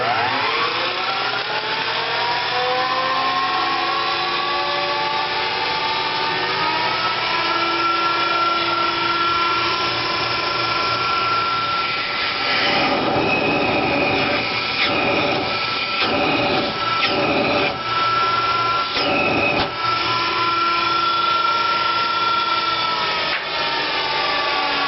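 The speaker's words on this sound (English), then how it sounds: "And let's fire this one up." A 1913-1914 Spencer Turbine central vacuum wired for 240 volts runs continuously, a loud steady motor and turbine whine with sustained tones and bursts of rattling and airflow changes partway through.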